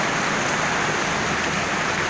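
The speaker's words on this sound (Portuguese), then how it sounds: "muita chuva, ó, como está aqui em Pernambuco, Gravatá, Pernambuco" Heavy rain pours down in Gravatá, Pernambuco as a dense, continuous, loud hiss with no pauses and no voices.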